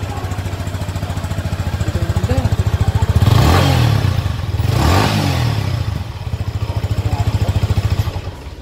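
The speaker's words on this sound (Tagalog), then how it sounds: "yung ignition po, yung sounds ng muffler ng exhaust niya." Yamaha XSR 155 cafe racer motorcycle idling through its large exhaust muffler, a steady close putter with two brief throttle blips swelling louder midway, faint voices murmuring in the background.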